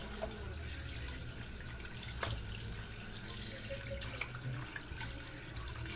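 A fish is rinsed under a running kitchen tap, a steady low hiss of water with soft splashes and a few light clinks, fairly quiet and without talk.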